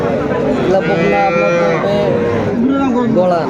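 A young bull calf at a rural cattle market moos loudly and close, several drawn-out bellowing calls running together with crowd and voices murmuring underneath.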